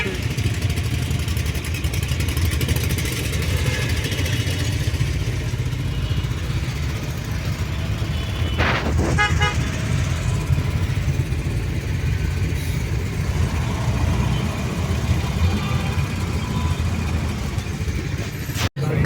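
Busy Delhi street traffic with a steady roar of car and motorcycle engines idling and revving up close, a brief horn-like tone partway through, and faint voices mixed into the noise.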